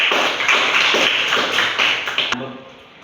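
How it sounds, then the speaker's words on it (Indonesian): A group of students claps together in a classroom during a microteaching lesson. The applause is dense and steady for about two seconds, then cuts off sharply and leaves a quieter room. "Tolong beri aplaus kepada Dila dulu"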